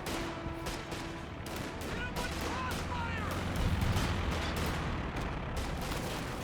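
Gunfire in the video game Company of Heroes 2: rapid bursts of rifle and machine-gun fire with distant explosions and battle rumble, continuous and dense throughout.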